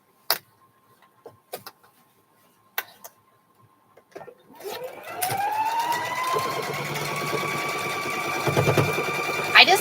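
A sewing machine stitches a quilt, starting after a few sharp clicks and taps, then running as a steady mechanical whir with rising motor pitch, close by and continuous to the end.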